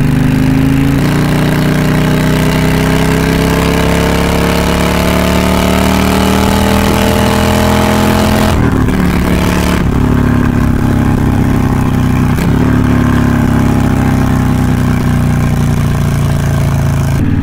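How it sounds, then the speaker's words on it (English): A motorcycle with a Cobra exhaust and quiet core baffles revs loudly and close, its pitch climbing and falling through repeated throttle blips, with a brief dip in the roar partway through. "let's see if I can rev it out a little bit here"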